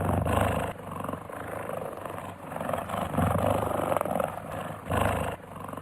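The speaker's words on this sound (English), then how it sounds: "cheetah" A big cat's roar fitting a cheetah, heard as loud, rough, sustained growling bursts that swell and fade over several seconds with no talk.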